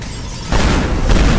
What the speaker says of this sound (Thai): นี่มันระเบิดนะ